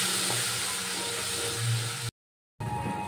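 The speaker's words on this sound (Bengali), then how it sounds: "টক দইটা এবার আমি ভালো করে মশলার সাথে কষিয়ে নেব।" Yogurt and spices sautéing in a pan give off a steady, soft sizzling hiss that runs continuously, broken by one brief total silence before the sizzle resumes.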